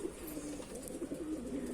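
Pet and wild pigeons perched together, giving soft repeated coos close by over a low background hum, with no talk.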